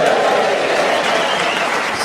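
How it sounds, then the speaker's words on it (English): A studio audience claps at a comedy panel show recording, a broad, sustained wash of applause that holds steady throughout without distinct separated claps. "Slow hand clapping an old man is really, really good."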